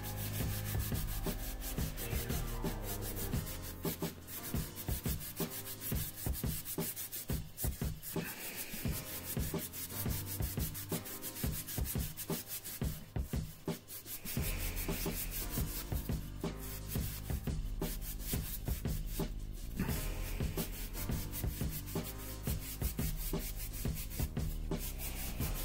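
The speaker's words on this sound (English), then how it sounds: "sand the piece" A pottery piece being sanded with a green scrubby dish pad, rapid rhythmic rubbing strokes repeating steadily and close up for a long stretch, with no talking.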